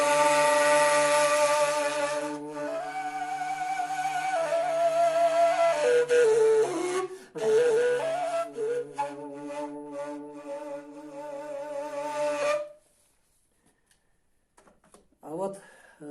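A kurai flute sounds with a low droning chest-voice accompaniment under its breathy melody, sustained phrases close up for about twelve seconds, then a quiet pause and faint movement.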